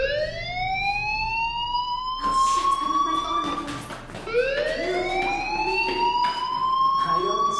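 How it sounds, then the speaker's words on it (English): A wailing fire alarm sounds in the video game Life is Strange, a loud rising-and-falling electronic siren. It repeats in two long sweeps that climb in pitch, with a brief dip between them. "Hey, do you hear that fire alarm? That means you should be outside."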